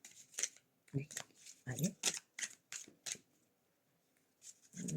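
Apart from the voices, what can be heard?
drawing and shuffling oracle cards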